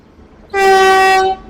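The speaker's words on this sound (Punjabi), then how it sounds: "ਬੰਦੇ ਭਾਰਤ ਟ੍ਰੇਨ ਆ ਰਹੀ ਹੈ ਬਠਿੰਡਾ ਦੇ ਵਿੱਚ ਕਰ ਰਹੀ ਹੈ ਐਂਟਰ" A Vande Bharat train's horn blares once as it arrives at Bathinda, loud and steady for nearly a second, then cuts off against a quiet background.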